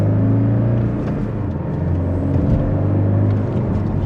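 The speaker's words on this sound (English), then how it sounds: "And just a mild acceleration." A 2025 Porsche 718 Cayman in sport mode, second gear, pulls under mild acceleration, its engine a steady close droning rumble heard from inside the cabin with no talk over it.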